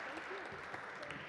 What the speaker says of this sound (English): Big round of applause, everybody, please.